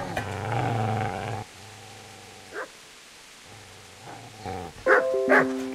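A dog growls in a long, low rumble, then goes quiet before giving a few short, sharp barks near the end. The sounds are close and moderately loud.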